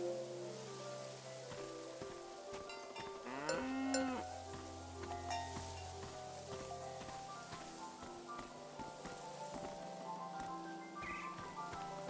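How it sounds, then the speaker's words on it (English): Cows in a video game moo repeatedly over a soft ambient music bed, one long drawn-out moo standing out loudly partway through among quieter calls. "And the seventh cow's name was Balto"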